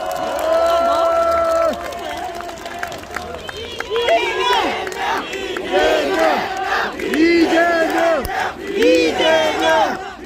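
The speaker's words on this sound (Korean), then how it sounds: "뜨거운 박수 부탁드리겠습니다" A political rally crowd in Pyeongtaek greets party leader Lee Jae-myung with loud, close cheering and rising shouted voices, scattered clapping mixed underneath and swelling in waves.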